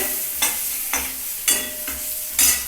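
Onions frying with turmeric and chili powder in a pan for an ol kachu curry sizzle steadily, broken by four distinct stirring scrapes at regular intervals, loud and close.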